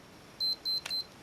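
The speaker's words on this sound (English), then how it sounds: "we hear the audible beep" Three short, high electronic beeps from a Minolta X-570 film camera's low-light warning in quick succession, with a faint click between the second and third, in a quiet room.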